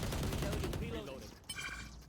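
Video game gunfire crackles in a quick burst of rapid shots that fade within a second, followed by quieter game sounds and faint background noise.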